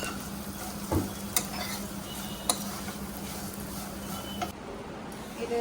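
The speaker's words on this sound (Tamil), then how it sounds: "இப்போ இந்த நெய்லயே என்ன பண்ணுங்க, அவல் கொட்டி ஃப்ரை பண்ணுங்க" Flattened rice (aval) fries in ghee in a pan, giving a soft, steady sizzle with a few sharp clicks of a spoon stirring against the metal.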